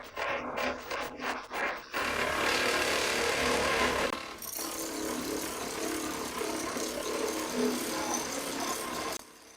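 A belt-driven grinding jack in use since the 1920s grinds straight razor steel in an old Solingen workshop, a loud, steady abrasive roar that runs for several seconds after a few brief handling knocks, then stops abruptly.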